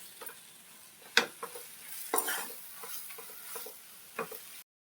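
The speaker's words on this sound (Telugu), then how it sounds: "ఇలా గోంగూర మగ్గుతున్నప్పుడు నలుపుకోవాలి. కొంచెం ఇట్లా స్మాష్ లాగా చేసుకోవాలి." Gongura leaves being mashed in a pan while they cook down for pickle: soft squelching presses and occasional sharp spoon taps against the pan over a faint sizzle, close and quiet.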